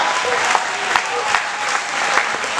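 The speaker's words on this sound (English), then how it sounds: "Give him a round of applause." Loud, close banquet crowd applause at a recreational football and cheerleader awards dinner, continuous dense clapping with a few sharper individual claps standing out, voices faintly mixed in.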